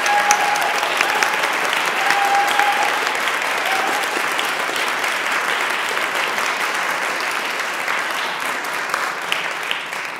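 A church congregation applauds the dancers after a morning service, giving a steady, dense round of clapping that holds for about ten seconds with no talk.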